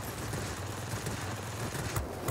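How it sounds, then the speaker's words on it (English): Aircraft cannons firing in the World of Warplanes video game, a continuous dense burst of rapid shots with a steady low rumble, loud and unbroken throughout. "these cannons, it's nice to have the cannons, but man, the cannons do overheat quickly on this thing"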